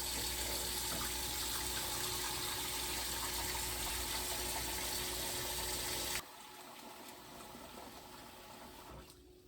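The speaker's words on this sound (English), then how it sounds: "Cover them with water." Tap water gushes steadily into a stock pot of browned roasted bones for bone broth, a loud continuous pour that drops abruptly to a quieter trickle near the end.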